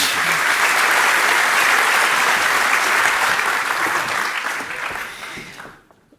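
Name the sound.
audience applause for speakers leaving the stage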